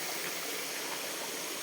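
A river flowing steadily outdoors, a continuous broadband rush of water that stays even and unbroken throughout, with no voices over it.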